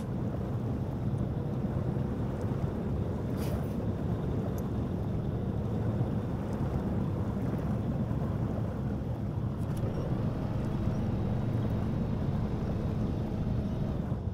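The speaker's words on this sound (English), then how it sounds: "I'm gonna stop the engine here" A truck engine in the video game Snowrunner runs as a steady, loud low rumble that drones on without a break, with no talking.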